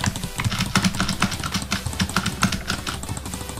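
Rapid jitter clicking on a mouse during a Minecraft Bedwars match, a dense run of sharp close-up clicks in quick irregular bursts with no speech.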